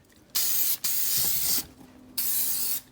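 An aerosol sealant can sprays in three hissing bursts over a glitter vinyl stencil, each lasting under a second, separated by short pauses, close and clear.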